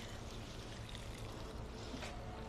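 Steady, soft pour of water from a hose or can onto garden flowers such as cosmos, snapdragons and vinca, a continuous close trickle without talking.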